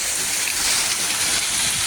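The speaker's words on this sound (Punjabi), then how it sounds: "ਬਹੁਤ ਤੇਜ਼ ਗੜਾ ਪੈ ਰਿਹਾ" Heavy rain mixed with hail pounds down in the village of Kathana Jagowal Bet, Gurdaspur, a dense, loud, unbroken hiss of impacts with no voices.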